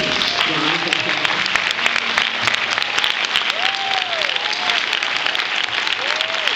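A church congregation at a celebration service applauds warmly in a sustained burst of clapping, with voices calling out and a few whoops rising above the crowd.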